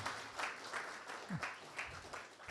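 Audience applause at a cybersecurity meetup, a soft, fairly distant patter of many hands clapping in uneven swells, with a faint voice underneath.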